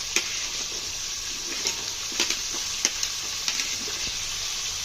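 Cut potatoes go into hot oil in a frying pan for a sambar and are stirred, giving a loud continuous sizzle close by, with scattered scraping stir knocks and no talk.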